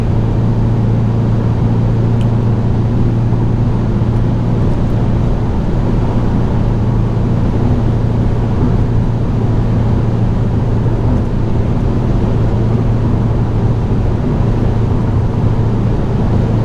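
Hyundai i20N hot hatch cruising at high speed on a motorway, around 85 mph during lane changes, giving a steady, loud cabin drone of engine, tyre and wind noise with a constant low hum and no pauses.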